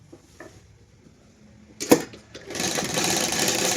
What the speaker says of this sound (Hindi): अलग रख के हमने इसमें सिलाई लगा दी है